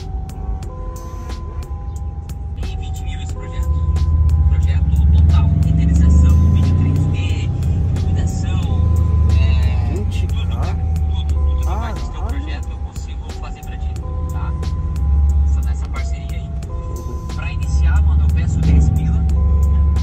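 Brabus 850 hp biturbo car driving, its engine a steady low rumble that swells and eases over the ride, with cabin hum and talk over it.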